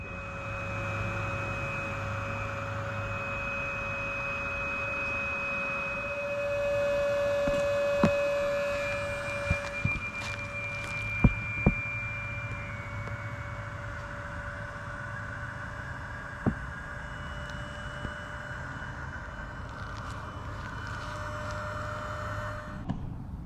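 A Maddle Free Spirit IX inflatable paddle board fills from a pump outdoors, with a continuous steady hum and whine that rises slightly in pitch over time. Scattered clicks and taps sound over it, and no one speaks.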